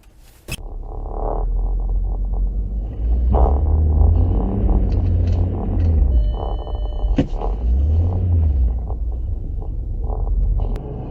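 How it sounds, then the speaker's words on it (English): A car pulling a handbrake turn on an icy hill in Portland gives off deep rumbling engine surges that swell and fade twice, with scattered clicks and light knocks over the low drone. "I decided to do a quick little handbrake turn"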